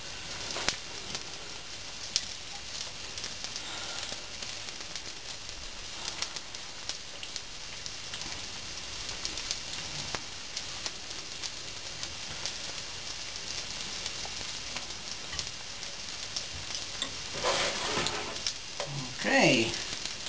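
Gyoza frying in a pan, a steady crackling sizzle like light rain holding throughout at moderate level, with occasional louder spatters and a brief clatter near the end.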